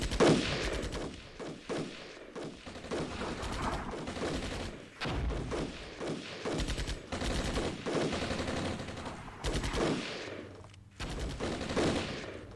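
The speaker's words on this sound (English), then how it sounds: "everyone's firing on these vehicles, but no one's actually doing any damage" Gunfire in the Armored Brigade war game, dense bursts of machine-gun and rifle fire crackling in rapid, overlapping volleys with heavier booms, loud and nearly continuous with short gaps.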